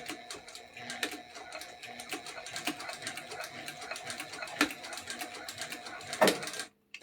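A sewing machine stitches a rucksack strap in a quick, steady run of close mechanical clatter with regular needle ticks, stopping abruptly just before the end.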